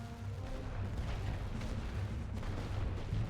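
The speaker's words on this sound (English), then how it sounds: "Fire your artillery, please. Fire your goddamn artillery." Artillery fire rumbles in the World War I strategy game The Great War: Western Front, dense low booms and rolling thuds overlapping continuously at a distance.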